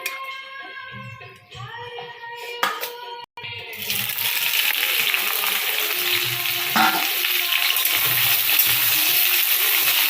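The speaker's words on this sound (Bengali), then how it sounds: "ঢ্যাঁড়সটা আমি লাল লাল করে ভেজে নেব।" Okra frying in oil in a wok starts as a loud, steady sizzle after a few clinks and knocks. Before that there is a quieter stretch with a faint voice.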